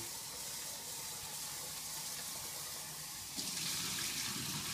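Rice is rinsed under a running tap in a kitchen, producing a steady close hiss of flowing water that grows louder and brighter near the end as the stream hits the grains.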